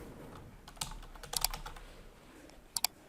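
Computer keyboard typing, a few scattered keystrokes and short bursts of clicks, close and fairly quiet, alone without talk.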